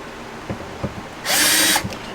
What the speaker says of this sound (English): Put it right here and drill some holes.